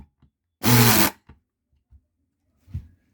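A 3-in-1 air screwdriver, a pneumatic drill doubling as nut driver and wrench, tightens a nut in a workshop: one loud, broadband burst of about half a second, followed by a few faint taps and a soft thump.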